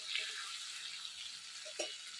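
Fish frying in a pan on a Bengali kitchen stove gives a soft, steady hiss of sizzling oil, faint and close, with a few small pops and no talk.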